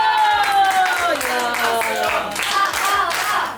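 Rhythmic clapping from a group of children at a church Sunday school, steady and fairly loud, mixed with lively chatter and music-like tones in the background.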